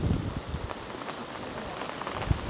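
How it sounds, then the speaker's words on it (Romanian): Light rain beginning to fall at a carp-fishing lake during a multi-day fishing trip, a soft, even hiss of drops, with a few louder patters near the end and no talk. "începe ușor, ușor, începe ploaia"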